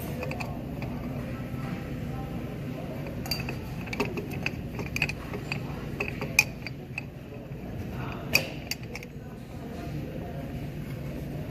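Inner tie rod being threaded onto a rack and pinion steering rack with a tie rod tool, giving steady low mechanical grinding and creaking with a few sharp metallic clicks and ratchet-like ticks throughout.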